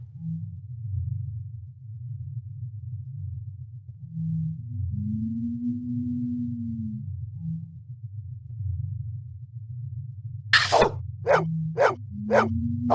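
A dog in the video game Blade Runner Enhanced Edition barks four sharp times in quick succession, loud and close, after a long stretch of low droning hum and tones.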